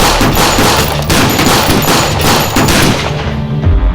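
Dense, sustained gunfire with rapid overlapping shots, loud and continuous like a fusillade, easing off near the end.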